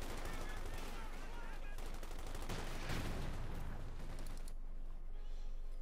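Bursts of German machine gun fire from five emplacements in Company of Heroes 2 rattle fast and steady through a dense battle din, with other gunfire mixed in and the racket thinning toward the end.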